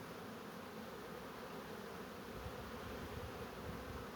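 A colony of Carniolan honeybees drones at a 10-frame hive, an even, unbroken buzzing at moderate level throughout, heard alone without speech.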